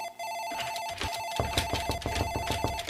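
A telephone rings loudly and steadily in the Mirror Mirror demo, a psychological horror video game, with a repeating electronic ring over a dense, droning game soundscape.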